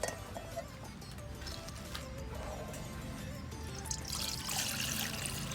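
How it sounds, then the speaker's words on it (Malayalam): Water pours into a pot set on a rocket stove outdoors, a faint steady trickle and splash running continuously under low background noise, growing a bit brighter toward the end. "ചട്ടി വെച്ച് നമുക്ക് വെള്ളം ഒഴിച്ചോ."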